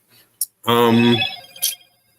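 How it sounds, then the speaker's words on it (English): A phone ringtone sounds once as a bright, tonal electronic burst lasting about half a second, close and loud, framed by brief hissy clicks before and after. "And that's my phone."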